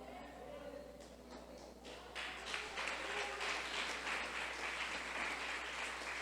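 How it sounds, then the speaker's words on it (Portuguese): A church congregation applauding during a sermon, scattered clapping that swells into sustained applause over a steady low hum. "Aplauda Jesus."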